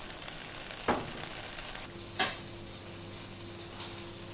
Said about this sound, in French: Et on va déglacer avec un tout petit peu d'armagnac